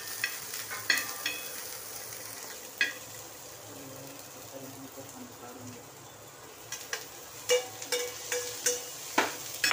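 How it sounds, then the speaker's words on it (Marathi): Pizza toppings frying lightly in a pan, a steady soft sizzle with occasional stirring scrapes and clicks, close and moderately quiet, no voices. "या अशा हलकेशा फ्राय करून घ्यायच्या."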